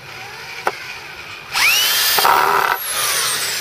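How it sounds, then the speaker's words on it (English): A cordless power drill drives a screw into wood while building precision and rail trainers: a sharp click, then a rising motor whine for about a second, a brief pause and a second steady run, loud and close. "See if I can actually use this drill today."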